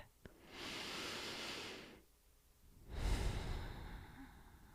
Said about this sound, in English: Let's begin with a deep breath